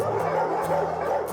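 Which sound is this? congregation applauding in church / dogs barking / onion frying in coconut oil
dogs barking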